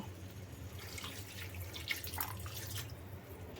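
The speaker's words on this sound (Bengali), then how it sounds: "একটু পানি দিয়ে দেব" Water runs steadily into a pot of potatoes for a few seconds, a soft continuous splashing pour close by with a low background hum.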